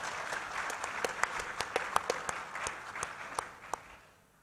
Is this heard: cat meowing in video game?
no